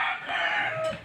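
A chicken crows once during heavy rain, one drawn-out call that rises and falls over a steady hiss of rainfall.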